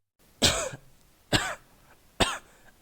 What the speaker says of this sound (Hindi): आवाज किसी के खांसने की थी।